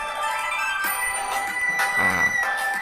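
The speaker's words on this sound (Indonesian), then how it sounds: "Ini suara chipmunk." A sped-up, squeaky high-pitched voice like a chipmunk, several quick chirpy phrases, quiet and alone.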